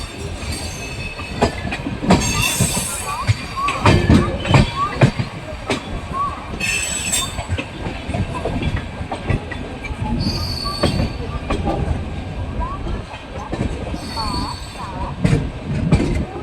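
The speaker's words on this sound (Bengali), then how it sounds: "আর ট্রেন এখন আমাদের ভুবনেশ্বরে ঢুকছে" Howrah–Puri Superfast Express rolling into Bhubaneswar station, its wheels squealing in repeated high-pitched bursts over a rattling clickety-clack rumble, loud and close, with faint voices in the background.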